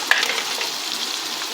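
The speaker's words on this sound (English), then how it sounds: "We're adding all the cabbage," Shredded cabbage sizzles and crackles as it fries in oil already used for frying meat, with a steady, close hiss and a brief sharper spatter near the start as it is stirred; no voices.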